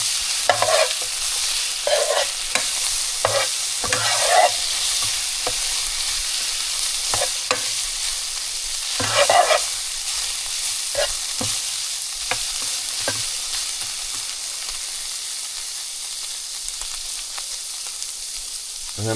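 Garlic and ground beef frying in a skillet over medium heat, a continuous close sizzle broken by repeated spatula scrapes and stirring knocks at irregular intervals.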